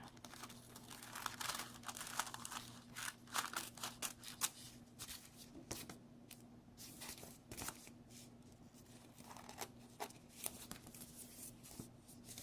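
Paper envelope being trimmed with scissors for a kids' decorating craft, giving a steady run of close, soft crinkling snips and paper rustles throughout, with no voices.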